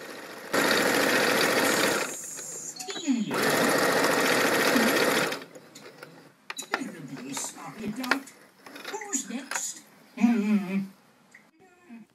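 An electric sewing machine stitches fabric for Moroccan salon cushions, running in two loud steady whirring bursts close by, then stopping and starting in shorter stitches while someone talks over the quieter end.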